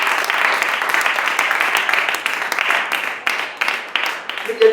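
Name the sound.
congregation clapping in church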